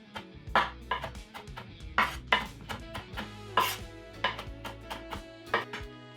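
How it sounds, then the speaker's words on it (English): A knife mincing garlic on a cutting board strikes in quick, uneven bursts of sharp chops, close and fairly quiet, with no voices. "Once the garlic is minced"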